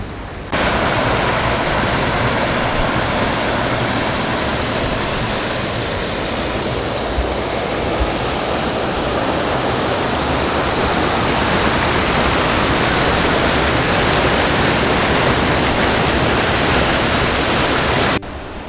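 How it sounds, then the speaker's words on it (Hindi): Waterfall at the Wadi Namar dam park, its water pouring down in a steady, loud, unbroken rush that fills the whole clip with no voices. "ये वाटरफॉल ये यहाँ से जो आप देख रहे हैं, यहाँ से ये नीचे पानी जा रहा है।"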